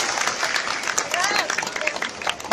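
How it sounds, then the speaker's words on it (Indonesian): Applause from an audience at an Indonesian religious talk, a steady wash of many hands clapping that continues throughout. "Tepuk tangan buat seluruh ibu yang ada di sini."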